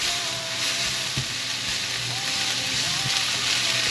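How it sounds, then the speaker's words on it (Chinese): King oyster mushrooms stir-frying in a pan, giving off a steady close sizzle with a few soft clinks and scrapes of stirring throughout. "杏鲍菇炒到它现在冒出水分，可以给它先铺平均，让它把水分炒干一点"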